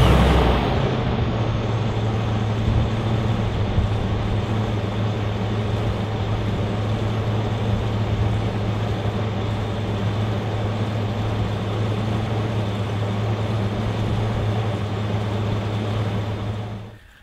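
A Class A gas RV engine, freshly serviced with an oil change, runs at a steady idle with a constant low hum and drone, close and unbroken, before dropping away at the very end.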